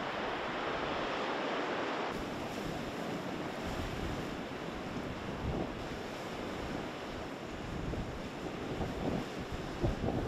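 Ocean surf rolling onto the seashore, a steady loud wash of breaking waves with wind buffeting the microphone, continuous and close with no voices.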